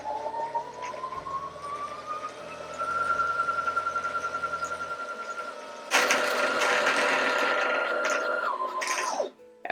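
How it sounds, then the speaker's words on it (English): A sewing machine winding a bobbin runs steadily with a rising then level whine, speeding up to a louder, brighter hum near the end before slowing and stopping as the bobbin fills. "it'll engage and start winding the bobbin"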